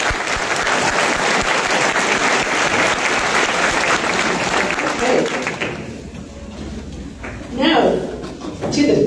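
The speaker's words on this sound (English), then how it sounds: "Another round of applause for you." Applause from an audience at a State Fair of Texas community event rings out loud and dense for several seconds, then fades out as a voice begins talking.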